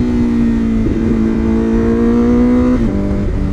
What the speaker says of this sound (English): Yeah, it sounds like a race bike.